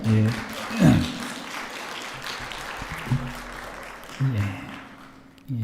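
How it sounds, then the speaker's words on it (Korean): A Calgary church congregation claps during a Sunday service to welcome missionaries: steady, moderately loud applause with voices and murmuring mixed in throughout. "일어나실 때 박수 한번 환영합시다"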